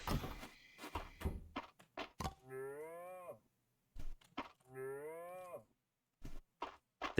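A cow in a farming video game gives two long, drawn-out moos separated by short gaps, with brief clicks and thunks between the calls and no speech.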